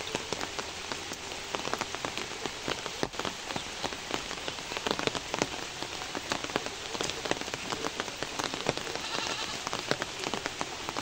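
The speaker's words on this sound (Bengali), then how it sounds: "আজকে সম্ভবত সারাদিন বৃষ্টি চলবে, বৃষ্টি থামবে না" Steady rain patters densely and evenly on surfaces for the whole stretch, with scattered sharper drops. A faint bleat from a goat may be heard under the rain. No one speaks.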